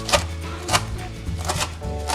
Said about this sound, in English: then just start chopping little pieces